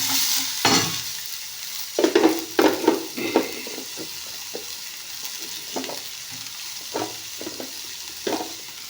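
Onions fry in a pan with a steady sizzle while a utensil scrapes and stirs in short bursts, several louder strokes clustering early and a few more spaced out later, close and clear with no talking.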